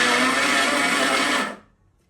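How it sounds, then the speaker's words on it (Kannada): A mixer grinder whirs loudly as it grinds dosa batter, a steady, close, high whine for about a second and a half before it cuts off into silence. "ಹಂಗಾಗಿ ಮಿಕ್ಸಿಲಿ ರುಬ್ಕೊಬಿಟ್ರೆ ಫುಲ್ ದೋಸೆ ಹಿಟ್ಟಿನ ಹದಕ್ಕೆ ಬರುತ್ತೆ. ಹಂಗಾಗಿ ನಾನು ಮಿಕ್ಸಿಲಿ ರುಬ್ಕೊತಾ ಇದ್ದೀನಿ."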